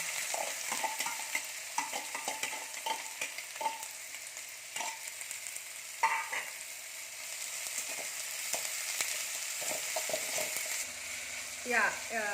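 Onion frying in hot oil with cinnamon and clove for capsicum rice, a steady sizzle broken by repeated clinks and scrapes of a spoon stirring the pan, close and moderately quiet.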